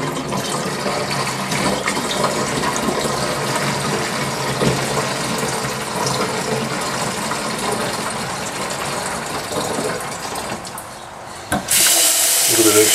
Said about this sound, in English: It's actually a sensible idea to pour in from a bit of a height because you get a better mix.